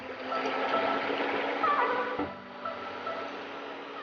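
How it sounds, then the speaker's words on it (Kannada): About a cup of water pours into a pan for making ginger sugar candy, a steady, close rushing splash that drops in pitch and softens midway. "ಮೊದಲು ಪ್ಯಾನ್ಗೆ 1 ಕಪ್ನಷ್ಟು ನೀರನ್ನ ಹಾಕೋತಾ ಇದ್ದೀನಿ"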